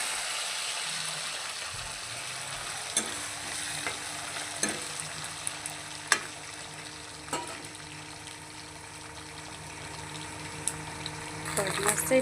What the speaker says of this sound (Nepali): फलामको कराईमा तेल हालेर रेडी गरिसकेको छु है। म चाहिँ भटमास भुट्न